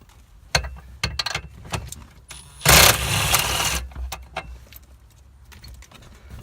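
Work on the steering column of a Chevy S10: sharp metallic clinks and ratchet clicks as bolts come out, with a loud burst of mechanical whirring midway, close and without talk.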